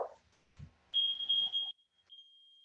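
An exercise timer gives a sustained electronic beep, then a shorter one after a brief pause, clear and close in a quiet room.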